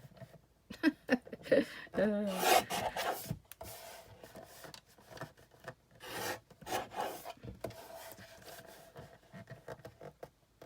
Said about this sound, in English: I guess I need to cut the white edges off too, hey?